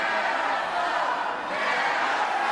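A wrestling crowd roars steadily behind its hometown tag team at an ICW steel cage event, a dense, continuous wash of cheering that swells and dips slightly without letup.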